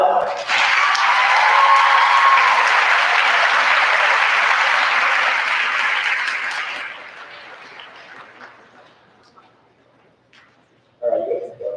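Loud, sustained applause from a school assembly audience at an MLK Day celebration, steady for several seconds before fading away into near silence, then a brief burst of crowd noise returns.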